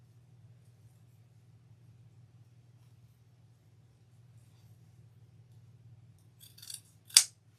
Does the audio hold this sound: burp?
no